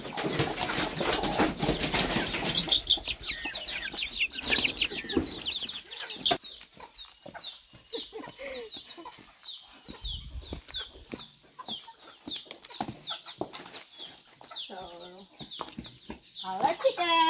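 A small chicken, about to be slaughtered for dinner, clucks and squawks repeatedly at close range. Rustling and flapping sounds come early on, and a person talks intermittently over it.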